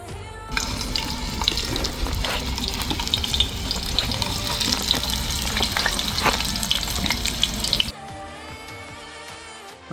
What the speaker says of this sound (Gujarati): હવે ડુંગળી છે ને તળી નાખવાની છે,